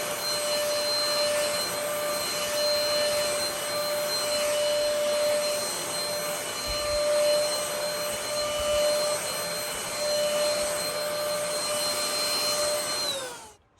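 A Greenote GSC40 cordless stick vacuum runs on low mode with a steady, close whine and airy rush that holds evenly throughout, then cuts off abruptly at the end.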